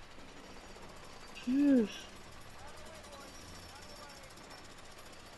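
A jackhammer at a construction site in the video game A Way Out rattles steadily in the background, with a short spoken word over it.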